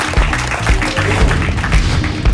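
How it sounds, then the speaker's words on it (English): A crowd at a boxing event applauds for Brooklyn heavyweight Jarrell Big Baby Miller, loud dense clapping and cheering throughout the short stretch. "round of applause"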